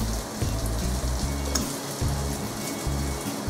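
Pasta and onions frying in a pan for bucatini all'Amatriciana, a steady close sizzle with bursts of stirring and scraping, no talking.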